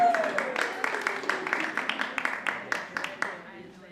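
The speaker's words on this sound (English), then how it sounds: "Big round of applause." A live cabaret audience claps in a burst of applause lasting a few seconds, with a rhythmic pattern of sharp claps that thins toward the end, while a voice carries on faintly underneath.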